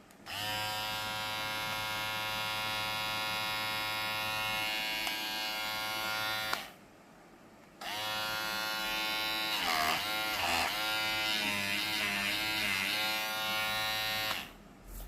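A Kemei NG 203 electric hair clipper with a taper blade buzzes with a steady, loud drone for about six seconds, stops briefly, then runs again with a slightly wavering tone.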